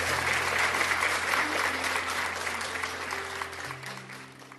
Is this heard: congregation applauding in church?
yes